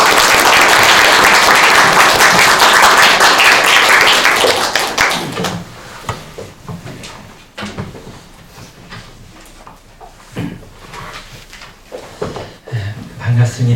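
Warm clapping from a school staff worship service audience welcoming a visiting pastor from Gwangju Yangnim Church. Dense and loud for about four seconds, then it thins into scattered claps, footsteps and shuffling.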